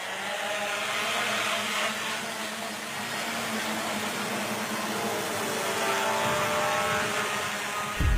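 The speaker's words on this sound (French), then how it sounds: "Et là, on va passer à un test de drone." Propellers of a drone built in Cameroon, on a test flight: a loud, steady whirring buzz that holds for the whole stretch with no talking, ending in a brief louder burst.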